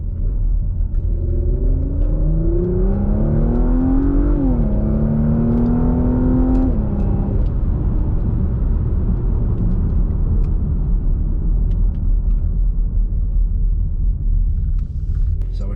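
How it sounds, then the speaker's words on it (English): Porsche Macan Turbo V6 in Sport Plus mode, a steady deep exhaust rumble heard from inside the car, with the engine note rising and falling through the first seven seconds before settling into a constant drone. "you still get that nice little rumble from the V6"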